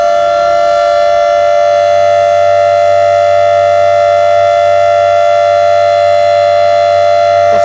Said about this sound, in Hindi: तो सायरन की आप आवाज सुन लीजिएगा।